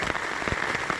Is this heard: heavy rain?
yes